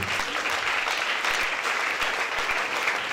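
A church congregation claps and cheers for Jesus at a testimony service, a dense, steady wash of applause from many hands filling the room without a break.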